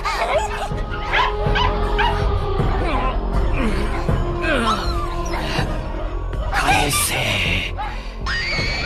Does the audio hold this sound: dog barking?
yes